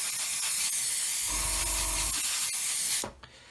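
Airbrush spraying gloss white paint onto parts of a 1/144 scale C-141B Starlifter model kit, a steady close hiss that holds for about three seconds, with a short low burst in the middle, then cuts off abruptly.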